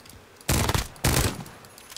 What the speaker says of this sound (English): So much cannon fire.